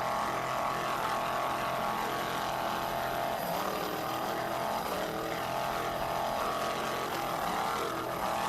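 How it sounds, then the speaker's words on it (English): Offshore racing powerboat engine roaring steadily under throttle during a heat off Virginia Beach, a continuous loud drone with shifting pitch that stays dense for the whole stretch, with no talk over it. "Nice job on the throttle by Scott Hold'em there. Just listen"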